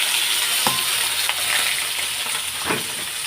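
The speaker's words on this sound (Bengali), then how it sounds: "আলুগুলোকে এখন লাল লাল করে ভেজে নেবো" Cut potatoes fry in hot oil with panch phoron, a loud, dense, continuous sizzle close by, broken now and then by faint scrapes of a spatula.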